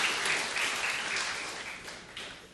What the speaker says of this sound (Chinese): 我们再次的热烈掌声，给他们